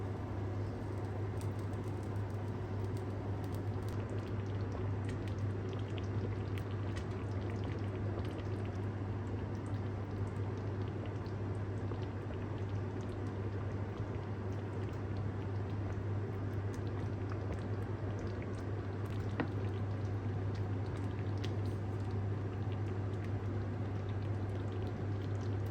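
Chicken fillets in creamy mushroom sauce simmering slowly in a pan over low heat, a soft continuous bubbling with a steady low hum throughout.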